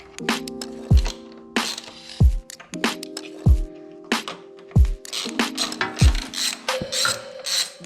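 Bolts are fitted and tightened on a Harley-Davidson foot control with a ratchet wrench, in about seven short, close bursts of rapid clicking, each opened by a dull knock, with quiet pauses between.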